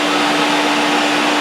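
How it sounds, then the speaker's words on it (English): Vacuum hose held at a speaker-box hive during bee removal, sucking up bees with a loud, steady, close roaring whine and no break. "right now what I'm doing is I'm just holding the vacuum hose here, and about half of them are just flying in on their own"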